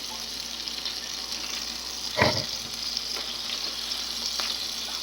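Big chunks of onion frying in a pan give a steady, even sizzle throughout, with one brief louder crackling burst midway and no voices.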